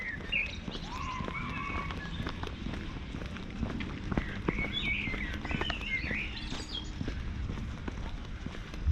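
Several birds chirp and trill at moderate distance near the bird sanctuary in Sochi Botanical Gardens, over a background of footsteps and outdoor noise, the calls scattered throughout.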